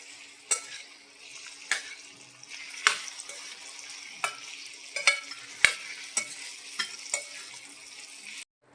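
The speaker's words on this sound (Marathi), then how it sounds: "चिकन चांगलं परतून घेऊया." Marinated chicken stir-fried in a pan for restaurant-style chicken fried rice gives a steady close sizzle. Sharp clinks and scrapes of a spatula against the pan come roughly once a second over the frying.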